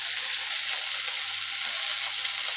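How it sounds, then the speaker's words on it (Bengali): Green chili paste with turmeric and salt sautéing in a pan for a drumstick and potato curry, giving a steady, bright sizzle that stays even and unbroken throughout, with no voices. "এবার ভালো করে কষাবো"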